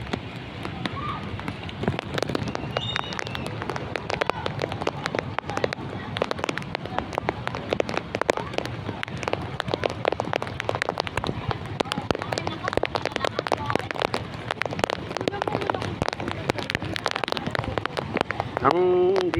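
Heavy monsoon rain beside a swollen river in Marikina during a typhoon, a steady dense hiss with pattering drops throughout, while someone talks over it.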